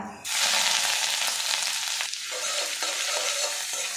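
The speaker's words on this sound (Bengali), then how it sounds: "আদাটা আমি ভাজা ভাজা করে নেব, এর কাঁচা গন্ধটা চলে যাবে।" Grated ginger fries in mustard oil with whole cumin, dried red chilli and a bay leaf, starting with a sudden loud sizzle that stays steady and close as a spoon stirs.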